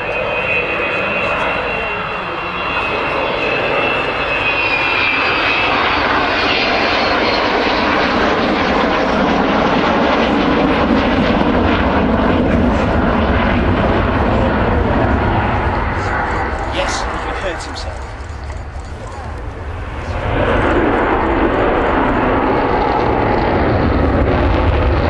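A 1960-built aircraft flies at the Cosford Airshow, its engine roar loud and sustained, swelling and fading slightly as it passes, while a commentator talks over a public address throughout.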